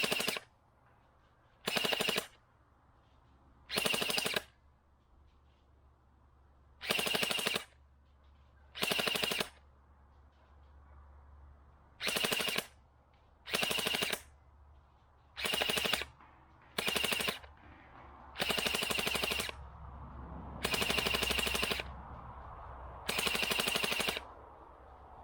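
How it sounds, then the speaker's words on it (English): An SKD CS001 hopper-fed gel blaster fires outdoors in about a dozen separate bursts, some short and some sustained, each a loud buzzing rattle of rapid shots, with quiet gaps between them. "I love these little hopper-fed gel guns."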